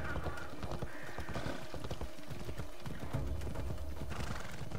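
Horses galloping in the video game Assassin's Creed Odyssey, rapid close clip-clop hoofbeats in a continuous rhythm with occasional neighs, loud and steady throughout.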